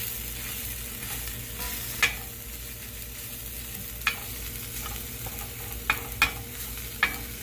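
Garlic parmesan butter melts and sizzles in a pan at the start of a homemade mushroom onion gravy. A soft, even frying hiss runs throughout, with a few sharp clicks of a utensil against the pan.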